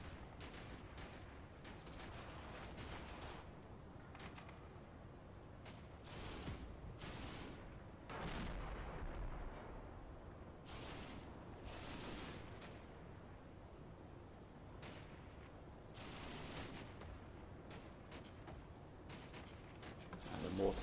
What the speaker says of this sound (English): Mortars, a couple of overshoots there as they're getting the eye in.